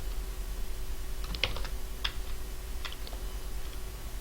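Code being typed on a computer keyboard, heard as a few quiet, scattered key clicks in a short irregular burst over a steady low hum, with no speech.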